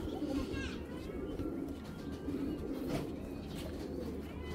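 Pigeons coo in a loft of Bengali fancy breeds, among them a red Mashal hen, with low murmuring coos running steadily through the clip beneath someone talking.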